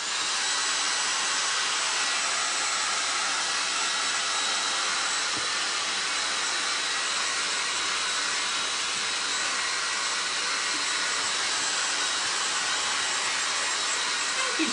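Dryer blowing over freshly painted door tags, a steady, loud, continuous airflow rush with broad hiss lasting throughout, close to the mic, with no talking.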